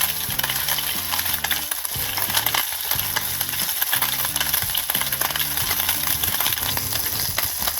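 Canned pork brains fry in hot oil in a pan, a steady broadband sizzle with small crackles and pops running throughout at a constant, fairly loud level, with no talking.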